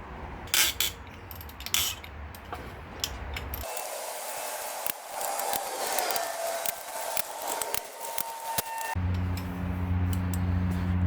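A ratchet works on the cam caps of a BMW B20 engine head, its pawl clicking in a steady mechanical rattle up close, with short pauses and changes in pace as each cap is loosened.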